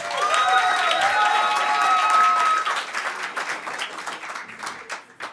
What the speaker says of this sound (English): That was a moderate clap.